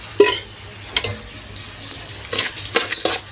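Cracked wheat being roasted in ghee in a pan, with a soft sizzle and scattered scrapes and clinks of a spoon stirring against the metal, close and fairly quiet.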